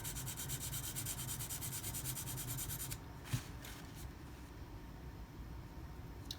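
An Emerson A100 knife blade is ground on a 320 grit sharpening stone, a steady close scraping rub for about three seconds, then a sharp tap and quieter faint rubbing.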